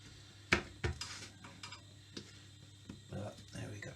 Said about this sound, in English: Try not to scratch the tin with your knife because it's a non-stick